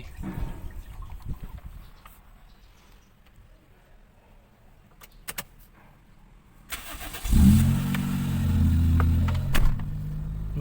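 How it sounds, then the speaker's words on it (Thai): A car engine at close range, run during an engine oil flush, cranks and catches after a quiet stretch with a few light clicks, then settles into a steady, loud idle for the rest of the clip. "สตาร์ทรถทิ้งไว้ ประมาณ 15 นาที"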